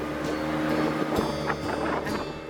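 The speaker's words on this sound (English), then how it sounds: "here's the boat" A steady, loud engine drone of a boat with wind buffeting the microphone, no talking.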